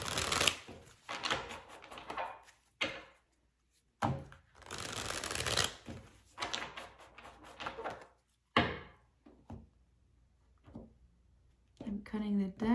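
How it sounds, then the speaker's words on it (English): Tarot cards being shuffled in bursts of papery riffling and soft slaps, with pauses between shuffles and a short voice near the end. "I'm just gonna shuffle a bit more"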